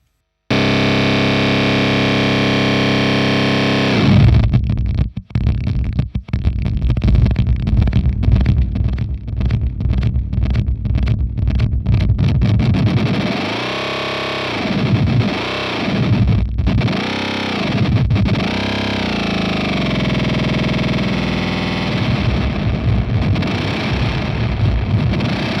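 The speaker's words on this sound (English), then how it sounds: "you can also engage a delay after this delay with this sort of noise to create more interesting sound" An electric guitar runs through stacked Fender Hammertone delay pedals adding noise, producing a loud, roaring wash of distorted feedback and swirling, sweeping swells that sustain unbroken for over twenty seconds.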